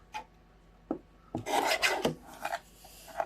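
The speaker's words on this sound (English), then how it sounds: "Just trim that little bit of excess off that was too big." A paper trimmer slicing excess cardstock during card making: a few short clicks and taps, then a rasping, scraping blade pass of about half a second, followed by a softer sliding sweep, close and clear with no talking.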